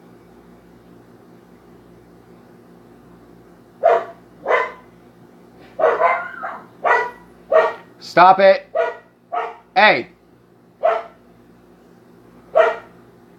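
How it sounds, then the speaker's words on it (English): A dog barks repeatedly in an irregular string of sharp, close barks, with a person briefly telling it to stop amid the barking. "Need to get that dog a bark collar."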